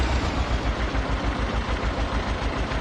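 Tractor engine idling in Farming Simulator 22, a steady low chugging pulse with regular rapid beats, close and continuous with no talk.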